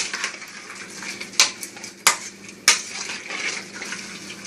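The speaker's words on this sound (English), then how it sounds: "I'm stirring it all up" Chicken and dumplings stirred in a pot, a spoon scraping and knocking against the sides with a few sharp clinks standing out over a soft, steady wet churn, close and fairly quiet.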